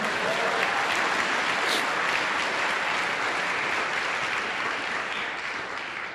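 A church congregation claps in a steady, dense round of applause that lasts several seconds and fades slightly at the end, with no voices standing out.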